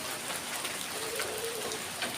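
Steady rainfall patters densely on surfaces nearby, an even hiss of countless drops at night, with no voices.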